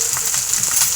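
Green chillies sizzling in hot oil in a pan, a close, steady frying hiss with small crackles and pops throughout the short moment.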